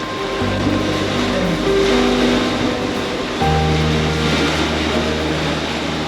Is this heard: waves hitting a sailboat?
yes